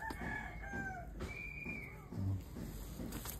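A medium-size Taiwan bird calls in a quiet indoor setting, giving a couple of clear, rising crow-like calls near the start and middle, faint beneath low background rumble.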